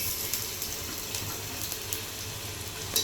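Garlic paste sizzling in a hot pan with browned onions, a steady, close frying hiss with small crackles and pops, no talking.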